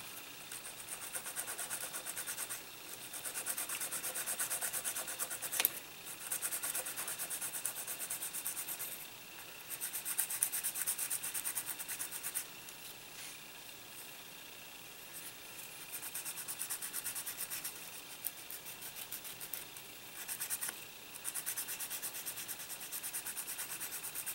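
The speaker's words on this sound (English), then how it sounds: "Alright, the super glue is dried. We'll go ahead and sand this down." Steady close scratchy rubbing of sandpaper over dried super glue on a plastic King Ghidorah model kit, continuing in uneven strokes with brief pauses, alone without talk.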